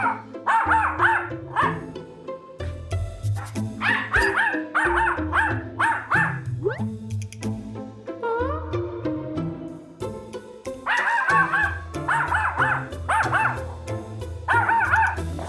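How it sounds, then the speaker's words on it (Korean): A dog barks without letup at a household doorway while family members wait in another room, sharp repeated barks and yelps coming in fast bursts with brief gaps, loud and close throughout, alone with no talk over it. "아직도 계속 짖고 있어요"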